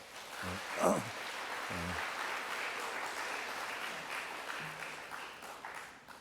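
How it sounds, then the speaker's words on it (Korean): A church congregation claps together to welcome a visitor, a steady moderate wash of applause, with a brief voice and a few low sounds near the start. "우리 잠시 일어나면 박수로 환영하도록 하죠"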